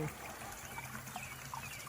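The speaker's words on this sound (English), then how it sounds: "That is actual vintage water pump that we have the water coming out of and down into the pond here." Water trickles from a vintage water pump down into a garden pond outdoors, a soft, steady splashing dribble that is faint and continuous throughout.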